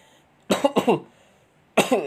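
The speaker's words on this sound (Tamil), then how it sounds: "எனக்கு வேறு இருமலாக இருக்குது" Two harsh coughs in quick succession, then a pause and another pair of coughs, close and fairly loud.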